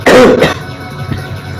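A single loud, harsh cough close to the microphone, followed by a quieter rasping throat sound, with no talking.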